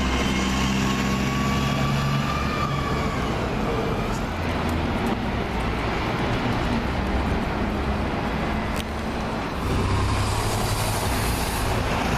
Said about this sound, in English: It looks like this is a gas bus.